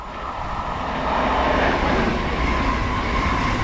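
The Małopolska regional train nicknamed Dziobaczysko, running as a double unit, rolls past at Warszawa Toruńska with a steady, rising rumble that grows louder partway through.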